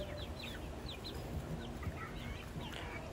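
Young Asil Sweater chickens about three months old cluck softly and intermittently in a farm yard, the faint calls scattered over steady background noise.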